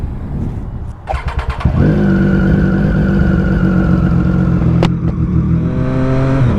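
A motorcycle engine revs up and holds a steady, loud drone while riding on a November road, after a brief clattering start.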